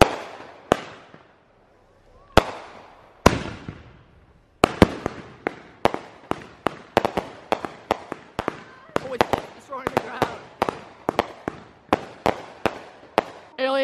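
Consumer fireworks burst in a rapid barrage of sharp, loud cracks, a few spaced blasts at first, then dense overlapping pops with crackling tails, at a New Year's Eve display.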